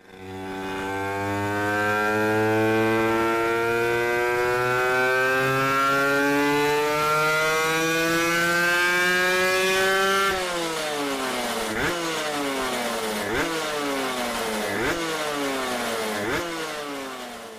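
An Aprilia RS125 two-stroke motorcycle engine running on a dyno, first a long smooth climb in pitch at high revs, then repeated rising-and-dropping bursts as the rider shifts up through the gears, loud and close.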